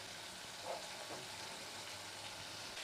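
Faint stirring and sizzling of egg masala curry in a pan with fresh coriander leaves, a steady low frying hiss with a few soft scraping strokes, no voices.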